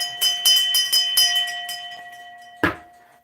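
A small bell rings repeatedly in quick shaken bursts, bright and close, its tone ringing on and fading, followed by a single sharp knock-like strike.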